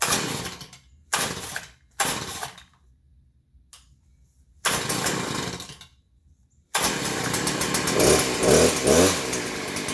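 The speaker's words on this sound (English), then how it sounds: "let's give her a crank. And let's see if those blades start spinning for us." A Stihl hedge trimmer is cranked with several short pull-start bursts, falls silent between pulls, then fires and runs loudly and steadily as its blades spin, with no talk.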